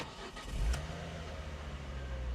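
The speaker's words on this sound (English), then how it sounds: "Let's turn the car off, turn it back on, start it up" A hot hatch car's engine starting up, a brief crank followed by a low steady idle rumble close by, with no talking.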